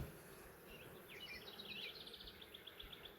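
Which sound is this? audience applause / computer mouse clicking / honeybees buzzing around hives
honeybees buzzing around hives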